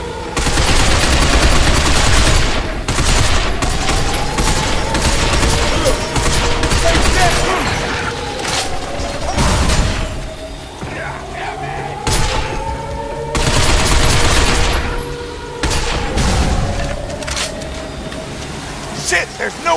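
Bursts of heavy gunfire from a powerful energy weapon in the shooter game Binary Domain on PC, loud and close in repeated volleys with short pauses, mixed with game effects and voices.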